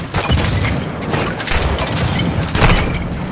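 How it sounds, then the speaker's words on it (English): A Molotov cocktail bursts in a co-op PS5 combat game, a loud, rumbling boom with crackling and crashing debris that fills the whole moment with no speech. "Throwing Molotov!"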